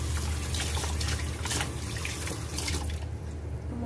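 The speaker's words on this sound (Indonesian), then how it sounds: "Tomatnya kita cuci bersih" Tomatoes washed under a running kitchen tap, a steady close rush of water splashing into the sink with small shifts in flow, heard alone without talk.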